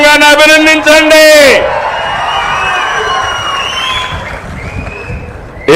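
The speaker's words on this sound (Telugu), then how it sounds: "గట్టిగా చప్పట్లు కొట్టి అధికార యంత్రాంగాన్ని అభినందించండి." A speaker at an Andhra Pradesh political gathering breaks off, and the audience answers with a broad wash of clapping and crowd noise that carries on steadily to the end.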